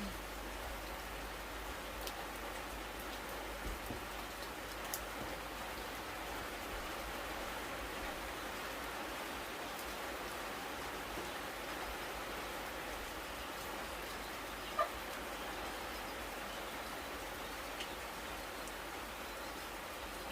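Steady rain falls outdoors in a rural Thai setting, a constant soft hiss of drops with no pauses, faint and even throughout, with only a couple of brief clicks.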